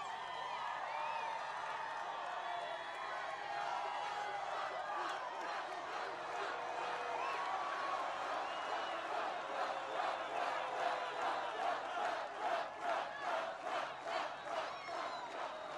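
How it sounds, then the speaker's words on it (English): Large outdoor political rally crowd in Pickens, South Carolina, a continuous distant roar of cheering and yelling that grows into rhythmic pulsing chants toward the end, heard without talk. "That's a big crowd of people."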